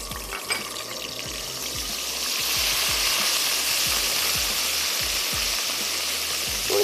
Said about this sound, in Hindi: ऑयल भी गर्म हो रहा है, हम इसमें ऐड कर देते हैं लहसुन और अदरक का पेस्ट।